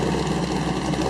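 A freshly rebuilt 1931 Phaeton motor idles close by, a loud, even low rumble with a steady vibrating throb and no other sounds.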